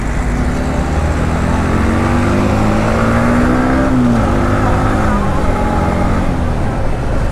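A motorcycle engine drones steadily while riding, its pitch slowly rising and then dropping back, close and continuous over road and wind noise.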